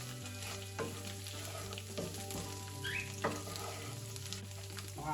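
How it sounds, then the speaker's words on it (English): Homemade vegan lard spread frying with pepper and salt in a pan, crackling and spitting over a steady sizzle while a utensil scrapes and taps a few times; a low constant hum runs underneath, and no voices. "let me just stir it"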